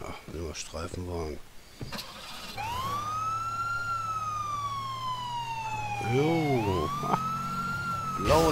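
A police patrol car's siren in the video game Trapped Dead: Lockdown wails in long rising and falling sweeps over engine hum, with a few short yelps, while a player talks briefly at the start.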